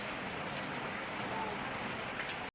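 Rain falls steadily in a soft, even hiss of drops on surfaces, quiet and continuous until it cuts off abruptly.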